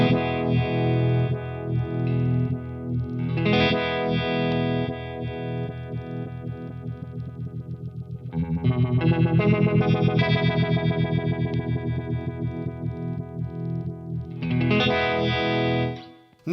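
Kingtone Vibe 1968 pedal set to deep rotating-speaker vibe on a sustained, distorted guitar chord, swirling slowly and throbbing in waves of thickness, loud and continuous with no talking.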